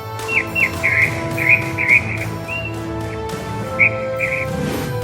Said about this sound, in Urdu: پرندوں کی چہچہاہٹ،